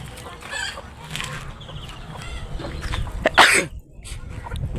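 Chickens cluck and fuss near a village pond, with scattered close clucks and one louder squawk over faint outdoor background noise.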